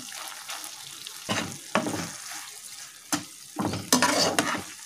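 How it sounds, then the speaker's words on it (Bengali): A spoon scrapes and stirs spices and vinegar in a frying pan for a paneer butter masala, giving several short, close scraping strokes over a soft, steady sizzle. "এবার একটু ভালো করে নাড়াচাড়া করে নেব।"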